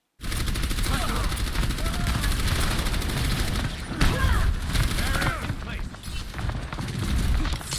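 Gunfire in Overwatch, sustained rapid automatic shooting with heavy thumps and impacts, loud and dense throughout, with a person talking over the action.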